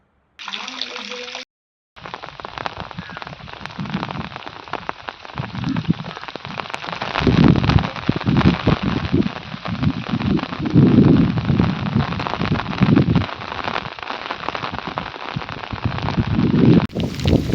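Heavy downpour of unseasonal rain in the Gir area of Malia Hatina, Junagadh, drumming steadily and loudly on surfaces near the listener, with a brief gap near the start, then continuous dense hiss and splatter.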